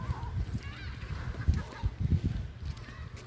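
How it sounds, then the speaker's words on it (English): Geese honk in short, irregular bursts at moderate distance outdoors near falls, several calls overlapping with faint ambient noise. "there's geese too"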